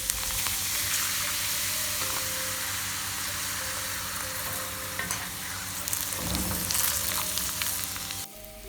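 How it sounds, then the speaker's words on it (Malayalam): Pappadam and egg pieces frying in a little oil, giving a steady, close crackling sizzle throughout with occasional stirring scrapes, rising briefly to a busier burst before a sudden stop at the end. "ഇനി നമുക്കിതിനെ ഫ്രൈ ചെയ്യാം."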